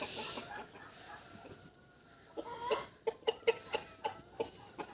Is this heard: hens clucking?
yes